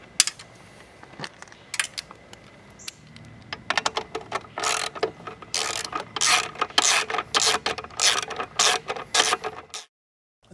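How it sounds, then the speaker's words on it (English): Metal parts clicking, ratcheting and clinking as a new replacement carburetor goes onto a 1974 Honda XR75 motorcycle, sparse at first, then dense rapid clattering close by, ending in silence. "So I start installing the new carb."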